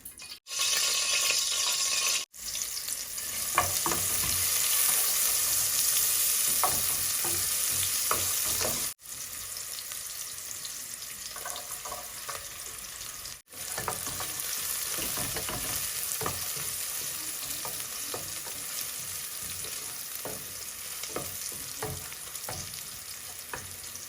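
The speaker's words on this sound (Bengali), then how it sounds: "তো আমি ডাইলও বাগার দেওয়ার লাগে অল্প করিয়া তেল দিলাম।" Hot oil sizzles steadily while tempering dal in a home kitchen, a dense crackling fry that runs throughout with a few sharp cuts and occasional stirring clinks, close and fairly loud with no talking.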